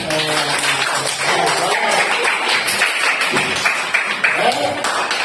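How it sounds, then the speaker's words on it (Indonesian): Pupils in a classroom clap for themselves at a teacher's prompt, loose applause mixed with children's voices and chatter throughout. "Kasih tepuk tangan untuk kalian."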